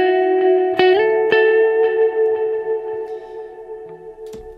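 A sustained electric guitar chord rings out, drenched in heavy reverb and effects, with a few picked notes cutting in as the wash slowly decays.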